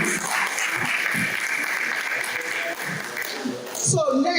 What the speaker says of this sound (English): So please, can you clap for me?